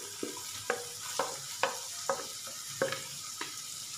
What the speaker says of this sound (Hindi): अभी हम प्याज डाल देते हैं